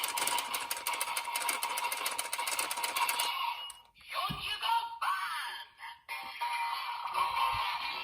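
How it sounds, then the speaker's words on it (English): A DX Geartlinger toy from Kikai Sentai Zenkaiger is cranked, giving a rapid mechanical whirring rattle that runs steadily for about three seconds, followed by electronic toy sound effects and short clicks. "then you're going to crank the Geartlinger"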